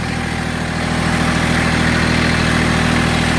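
A Massey Ferguson GC1710 sub-compact tractor's engine runs rough, a loud, steady close-up diesel drone with a faint uneven pulsing throughout and no talking.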